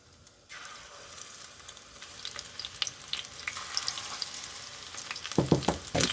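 Dongeurangttaeng meat patties coated in rice flour, placed one by one into plenty of hot cooking oil, a rising crackling sizzle that builds steadily, with a few louder knocks near the end and no talking.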